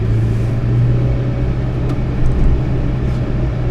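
A 1994 Subaru Sambar Dias Classic van pulls away from inside the cabin, its small engine giving a steady low drone and rumble with a slight rise, and no one speaking.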